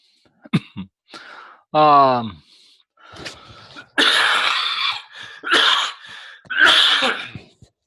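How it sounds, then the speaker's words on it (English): A lecturer recovering from a summer cold coughs and clears his throat several times in loud, close bursts, with a brief voiced groan among them and pauses between. "I still have a cough from my summer cold"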